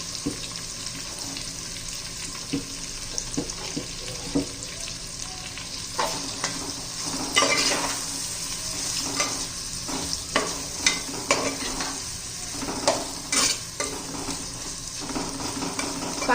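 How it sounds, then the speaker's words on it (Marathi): Onions sauté in a pan with grated garlic and ginger, a continuous close sizzle broken by repeated scraping and stirring clacks of a spoon against the pan, growing busier midway. "कांद्याचा कच्चेपणा जाईपर्यंत आपण परतून घेणार आहोत हा कांदा भाजून घेणार आहोत"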